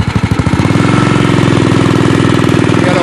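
A classic BSA 441 motorcycle engine runs loud and close on a ride back from Deep Cove, a rapid, steady, throbbing single-cylinder beat with no voices.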